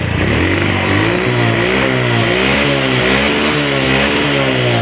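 A motorcycle at a bike shop runs loud and close, its engine revving up and down in steady surges with a constant rumbling drone underneath, and no voices.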